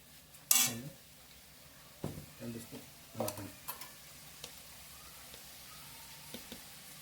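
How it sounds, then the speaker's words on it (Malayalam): Beef stirred with a spoon of turmeric powder in a hot pan, with a sharp clatter at first, then several scraping stir strokes and clinks over a faint sizzle, close by; a little speech is audible in the background. "മഞ്ഞപ്പൊടി ഒരു സ്പൂൺ ഇട്ട് ഇളക്കി കൊടുക്കുക"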